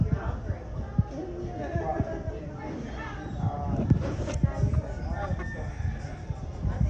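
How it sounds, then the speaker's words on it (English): Clucking hens and a crowing rooster at a Key West marina sound fairly close and persistent, layered under ongoing conversation throughout. "She's a beautiful chicken."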